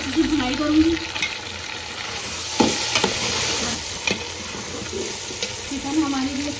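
Chicken, a kilo of it, being stirred and fried with onion and garlic in a pan, giving a steady sizzle with scraping stir strokes, close and fairly loud, with a brief tap-water splash.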